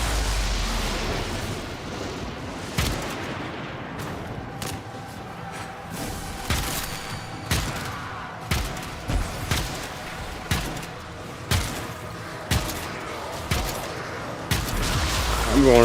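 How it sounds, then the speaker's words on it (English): Gunfire from shooting enemies in the Warframe video game, heard as repeated punchy shots and thuds at a steady, roughly regular pace over a dense, busy game soundscape, moderately loud. "I'm going right in front of the enemies to shoot them in the face."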